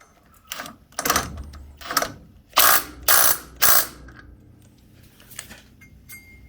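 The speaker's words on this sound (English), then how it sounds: "it says we've got to tighten that up with a socket spanner" A socket ratchet tightening the original nut on a bench grinder while fitting a linisher attachment: a string of sharp, close ratcheting clicks in short bursts, the loudest three in quick succession midway, then quieter clicks trailing off.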